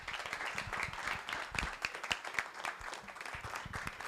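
Seminar audience claps after a speech, a moderate, scattered round of applause with individual hand claps distinct, fairly distant in a room and steady for a few seconds.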